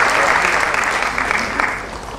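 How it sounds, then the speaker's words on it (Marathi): Loud, dense applause from an audience at an awards ceremony, a continuous close clapping roar that fades slightly toward the end. "टाळ्या वाजून कौतुक करूया षडगणसाठी."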